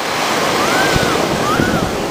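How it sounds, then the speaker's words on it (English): Big ocean waves break and roll onto a Malibu beach on an unusually high-surf day, making a steady, loud broadband roar with some wind buffeting on the microphone and no talking. "This is the day that the waves are the biggest that they've been all year."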